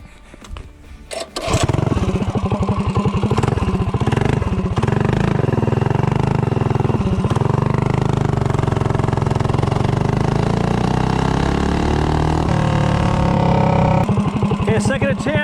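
A Predator 212 engine fitted with a long intake manifold roars up to a loud, steady drone after a short quieter start, holding strong and close for the rest of the stretch as it accelerates from 0 to 30.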